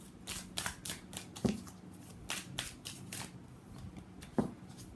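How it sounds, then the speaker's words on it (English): Tarot cards being shuffled close up, a series of quick crisp riffles and soft slaps in irregular bursts, fairly quiet with no talk. "Let's pull some cards from universe for final message"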